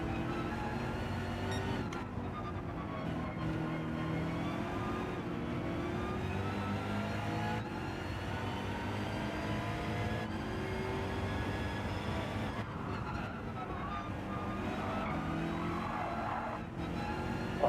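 A BMW Gr.3 race car in Gran Turismo 7 slides on the track with continuous engine drone and tire squeal, steady and moderately loud throughout with no voices.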